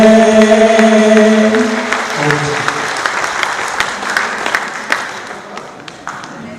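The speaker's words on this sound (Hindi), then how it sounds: "एक बार और जोर से ताली बजा दीजिए इनके लिए" A crowd at a marathon prize distribution ceremony breaks into sustained applause, loud and close at first. Sustained tones from the start ring under it, and the clapping gradually thins and softens toward the end.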